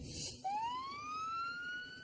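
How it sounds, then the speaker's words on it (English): An ambulance siren starts up and holds a rising wail, clear and moderately close, above low road rumble, with no voices. "When the ambulance arrives"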